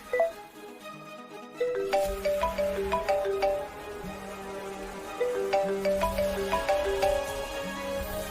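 A phone rings repeatedly with no one answering, a melodic ringtone whose bright tone phrases repeat over a steady low buzzing pulse, heard clearly with no talking.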